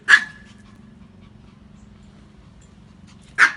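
A Pomeranian gives two short high whimpers, one at the start and one at the end, with a faint thin whine and low hum between them.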